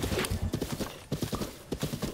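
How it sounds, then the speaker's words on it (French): A skeleton horse's hooves clip-clop at a steady trotting rhythm in Zelda: Breath of the Wild, loud and close, alone without talk. "Oh, un cheval! Un cheval squelette, c'est stylé ça."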